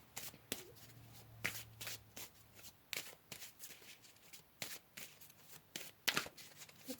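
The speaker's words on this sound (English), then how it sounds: "let's pull some more cards" Tarot cards being shuffled by hand, a series of crisp riffling bursts and soft slaps in an irregular rhythm, close and fairly quiet with no talking.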